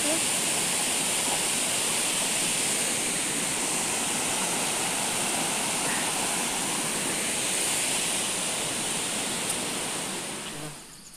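A waterfall roars steadily in a Konkan village forest, a dense continuous rush of falling water close by that fades slightly at the very end.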